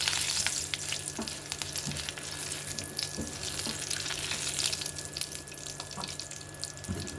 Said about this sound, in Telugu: పేస్ట్ వేసేసుకుందాం.